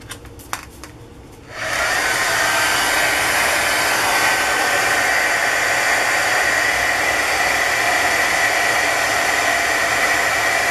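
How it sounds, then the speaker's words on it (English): A heat gun blowing hot air to melt silver embossing powder on paper, starting after a few brief taps and then holding as a loud, steady, close rushing whoosh for the rest of the clip. "you're going to have to listen to the noise of my heat gun"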